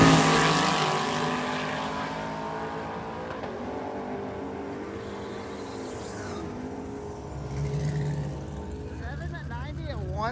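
A Dodge Dart drag car at a drag week event roars through its pass, a steady engine drone with rising revs sitting under a commentator's running talk.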